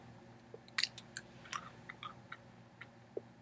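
Someone chewing a Japanese gummy candy with a hard sour shell and soft honey-flavored center, giving close, quiet crunchy bites and clicks scattered across a few seconds.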